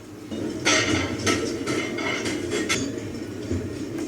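Restaurant ambience with dishes and cutlery: scattered clinks and clatters of plates and silverware over a low room murmur, several sharp knocks spaced irregularly at moderate distance.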